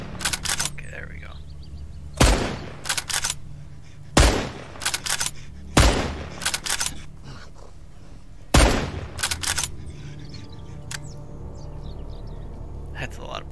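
Gunfire in the zombie survival game Mist Survival, four loud sharp shots spaced a couple of seconds apart, each followed by brief clatter, over a low ambient hum.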